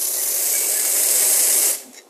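Powerful purge from the steam wand of a Nook Mini dual boiler espresso machine gives a loud, close, continuous hiss for almost two seconds, then cuts off sharply.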